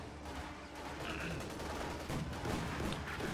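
In Company of Heroes 2, an anti-tank gun fires amid dense, rumbling battle noise with crackling gunfire, all at moderate loudness throughout, and a voice is faintly present.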